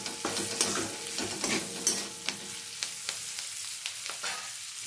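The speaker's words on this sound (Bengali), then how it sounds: "একটু নাড়িয়ে নেব এটা।" Chicken and broccoli frying in a pan, stirred with a utensil: irregular scraping knocks over a steady sizzle, close and moderately loud, with no voices.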